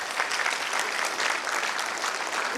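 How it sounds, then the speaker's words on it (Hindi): An audience at a book release ceremony claps loudly and steadily throughout, a dense, even wash of applause from many hands. "जोरदार तालियों के साथ"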